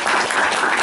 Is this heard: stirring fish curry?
no